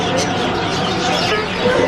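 Chickens cluck at a crowded street bird market in Kabul, Afghanistan, their calls rising over a constant din of passersby, traffic and nearby voices.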